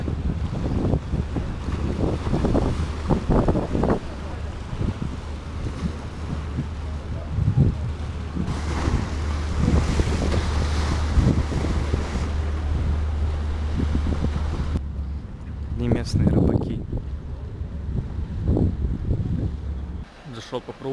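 Wind and sea waves wash along the Istanbul shore near Gülhane Park, where fishermen line the water. A steady rushing roar buffets the microphone, then drops briefly before a last gust.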